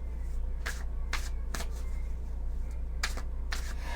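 Tarot cards shuffled for a reading, several quick, crisp riffling bursts spaced about half a second apart over a steady low hum, close by and with no talking.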